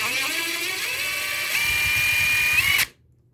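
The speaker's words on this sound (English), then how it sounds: "Get out the biggest drill you can find." A large power drill whines steadily while driving long screws into a Traxxas UDR truck, close and loud, the motor pitch rising partway through before it cuts off abruptly into silence.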